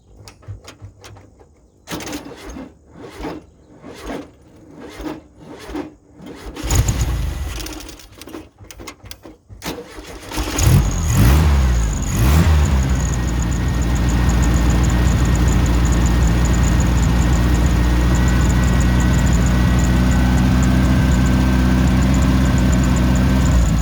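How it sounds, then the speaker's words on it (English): A Volkswagen Super Beetle engine fitted with a new carburetor cranks in several short bursts, then catches and settles into a loud, steady idle on its base adjustments, running close and continuous. "We're going to go ahead and test fire. It might take a second to get fuel to the carburetor."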